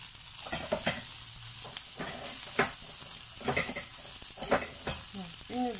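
Broth from a ladle hits a hot pot of alcohol-free beef bourguignon, setting off a soft steady sizzle broken by stirring scrapes and light clinks, heard up close with no talking.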